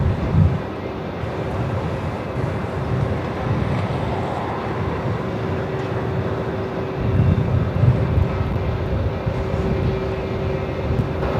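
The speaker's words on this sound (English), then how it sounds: "We're just about to get the awesome overhead from Matt coming in on runway 16." An aircraft lands on runway 16 at Melbourne Airport, producing a steady, loud jet roar with a sustained engine drone and wind buffeting on the microphone throughout.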